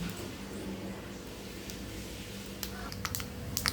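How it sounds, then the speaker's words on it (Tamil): Mustard seeds pop and splutter in hot oil, a crackle of scattered sharp clicks that grows toward the end, with a soft frying hiss underneath. "இப்போ கடுகு பொறிஞ்சிருச்சு"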